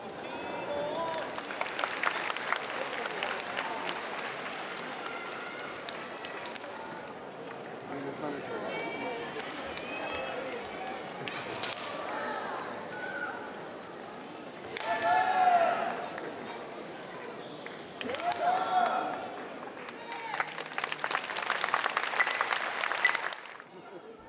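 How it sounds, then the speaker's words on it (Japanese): A crowd claps for sumo wrestlers during the sanyaku soroi-bumi at an autumn 2018 regional exhibition tour in Kasugai. Applause swells in waves with an announcer's voice speaking over it throughout. "観客の期待が高まり、力士の皆さんに大きな拍手が送られていました。"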